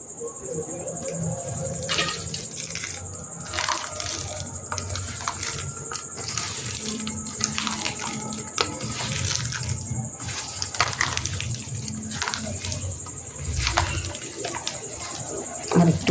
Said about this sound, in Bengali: এবার হালকা করে একটু জল দিয়ে দেবো।